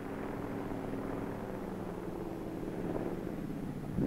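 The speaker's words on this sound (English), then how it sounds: "Planes re-enter the landing circle." A Navy torpedo plane circling over an aircraft carrier gives a steady, droning propeller engine roar that holds at moderate loudness and swells slightly toward the end.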